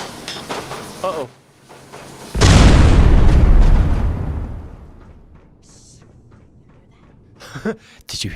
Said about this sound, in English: It sounded like a gigantic fucking explosion.